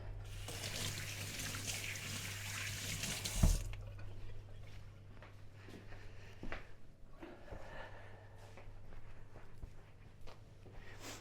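A kitchen tap runs steadily while hands are washed after flattening oatcake dough, then cuts off abruptly after about three seconds, leaving quiet handling noises and a room hum.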